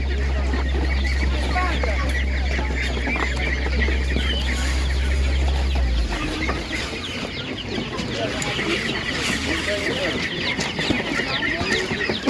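Chickens and roosters cluck and call at a busy animal market, with a white rooster among the birds. The fowl sounds are steady and mixed with crowd noise, a low rumble that drops off partway through, and voices talking nearby.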